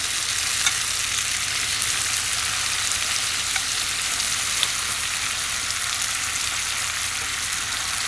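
Polish kielbasa and onions fry in a cast iron pan over a wood gas stove, giving a steady, close, loud sizzle that runs unbroken with no talk.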